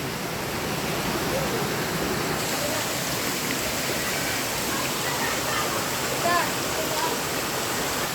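Tagkuriring waterfall in Puerto Princesa, Palawan, a steady broadband rush of falling water that stays constant and fairly close throughout, with no break in the roar.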